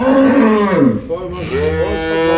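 A cow at a cattle market gives loud, close, drawn-out moos. The first moo is long and the second is shorter, and they are separated by a brief dip.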